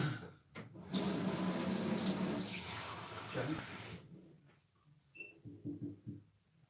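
Water runs from a tap in a steady, fairly loud rush for about three seconds, then shuts off, leaving quieter knocks and small movements.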